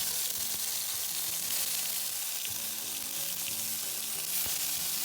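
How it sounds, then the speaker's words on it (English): A tomato and sweet pepper Spanish sofrito fries in olive oil over high heat, with a loud, even, close sizzle throughout and occasional faint knocks of stirring. "Now it's time to add the Spanish Sofrito."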